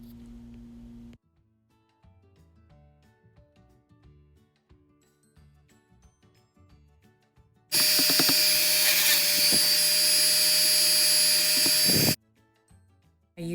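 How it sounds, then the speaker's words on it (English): A Dremel rotary tool drilling a hanging hole in the top of a dried Dollar Tree lemon craft piece: a loud, steady high whine runs for about four seconds, then cuts off, after quiet handling noises. "Once that's dry, I take my Dremel and I put a hole in the top"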